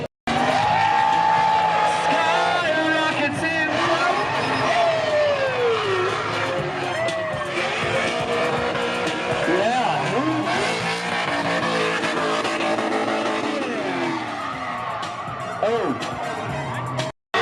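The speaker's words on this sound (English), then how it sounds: "Side by side drifting!" Cars drift side by side at a drift event, giving sustained, loud tire squeal with rising and falling wails and engine roar throughout, while excited voices shout over the noise.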